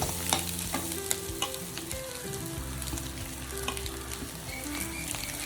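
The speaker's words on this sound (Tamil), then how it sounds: "நல்லா இதை வதக்கிக்கினே இருக்கணும், நல்லா வதங்கணும்" Beans, carrots and cabbage being sautéed in a pan, a soft continuous sizzle with scattered clicks and scrapes of stirring, fairly quiet and steady throughout.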